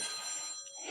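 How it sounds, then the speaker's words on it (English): A mobile phone rings faintly during a live yoga stretch class, a brief burst of electronic tone with no voices over it. "That is my phone."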